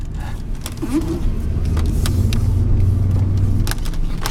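An old, clean original pickup truck on new load range E tires rolls along with no throttle, giving a steady low road rumble and tire hum heard from inside the cab, with faint clicks and rattles.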